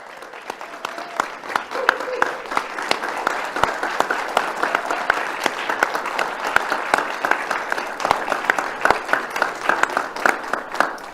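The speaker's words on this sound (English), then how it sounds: "a standing applause for all of our winners" Standing applause from a ceremony audience for award winners, steady dense clapping with sharp individual claps throughout, fairly close and sustained for the whole stretch, with faint voices underneath.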